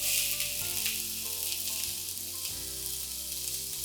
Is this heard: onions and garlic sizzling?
yes